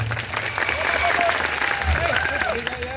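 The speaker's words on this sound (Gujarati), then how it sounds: "બધા જ માટે એકવાર આપણે જોરદાર તાળીઓ પાડી લઈશું" A crowd at a political rally applauds steadily, a dense wash of clapping from many hands, with a voice faintly audible over it.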